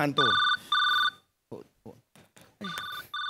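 A phone rings in repeated electronic trills, loud and close, with brief bursts of people talking in the pause between rings.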